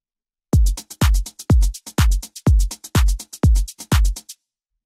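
A drum loop processed with vintage-style compression and tape saturation plays with punchy kicks on a steady beat, bright hats between them, close and loud with no voices.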